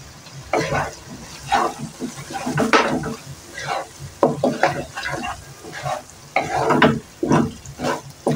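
Fish roe frying in a pan with chili powder, stirred in a quick, repeating rhythm of close scraping strokes over a steady sizzle.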